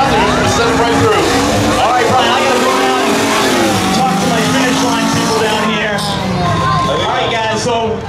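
Street-legal cars launch at a spectator drag race during CAR WARS 2018, loud engines revving and rising in pitch as they pull away, over a crowd murmur and people talking nearby.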